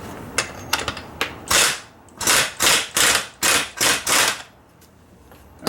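A ratchet tightening a bolt on an alternator during a Ford F150 Cummins swap, a series of about a dozen sharp clicking bursts in an uneven then steady rhythm, close up with no talking.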